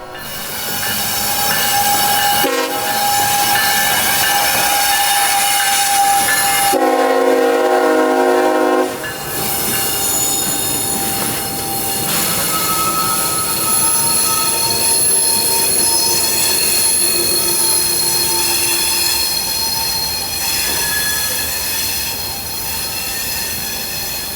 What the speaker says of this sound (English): B371 rides over it, pulling their empty train out of New Wales